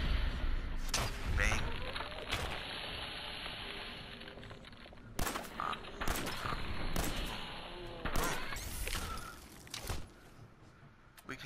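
Gunshots in Fallout 4 in the Glowing Sea, sharp, loud single shots and short bursts at irregular intervals against a battle din, with a voice talking between them.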